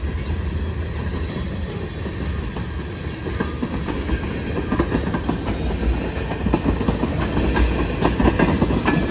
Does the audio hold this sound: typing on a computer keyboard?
no